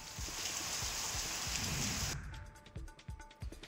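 Steady unseasonal rain pouring down with dense hiss and drops, cutting off midway to quieter patter with scattered drips.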